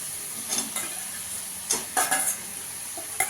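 Fried potatoes are stirred into a masala in a pan for mochar kofta, giving a constant sizzle under several close spatula scrapes and clatters that come in short bursts.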